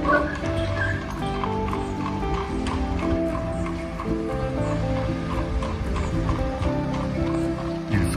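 Horses clip-clop through central Ljubljana near the Parliament, steady hoof beats ringing out amid busy, continuous street noise and faint background voices.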